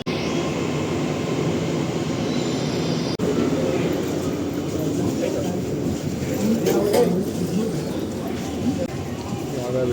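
Interior of a running Mumbai Metro train between DN Nagar and Bangur Nagar: a steady loud rumble and rushing roar of wheels and motors, with people talking faintly throughout.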